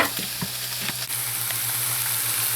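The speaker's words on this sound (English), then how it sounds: "I'm going to cook that zucchini and those onions down." Zucchini and onions sizzle steadily in a pan for a garden-harvest stir fry, a dense close frying hiss with a few soft knocks of stirring early on, no voices.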